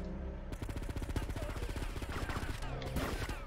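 Sustained gunfire from a weapon in the game GTA Vice City, a long fast string of evenly spaced shots with a brief break near the end before firing resumes, dense and continuous.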